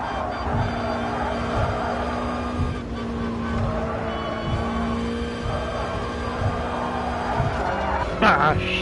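A race car engine in Gran Turismo Sport, from a Toyota manufacturer series event, holds a steady high buzzing drone as it bounces off the rev limiter, continuous and loud, with a short burst near the end.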